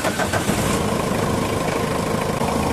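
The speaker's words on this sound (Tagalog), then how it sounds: "Pa-start ko itong makina." A Mitsubishi Adventure engine runs with a steady, loud mechanical drone, a rough mid-range idle holding even throughout with no voices over it.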